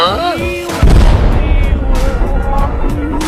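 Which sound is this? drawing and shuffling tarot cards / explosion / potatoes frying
explosion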